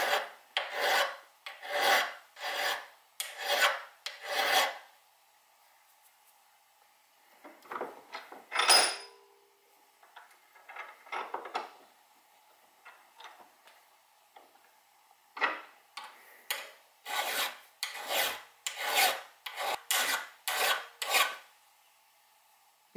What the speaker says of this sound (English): While we got in the vise, let's clean up those edges with a file.